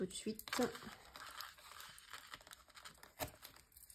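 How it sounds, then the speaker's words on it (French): Adhesive backing strips peeled off craft magnets during scrapbook album assembly, giving close crinkly tearing and rustling bursts with a sharp peel near the end, while a voice talks over it. "j'enlève les deux morceaux d'adhésif de mes aimants"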